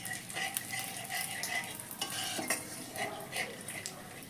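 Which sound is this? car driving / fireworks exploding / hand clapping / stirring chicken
stirring chicken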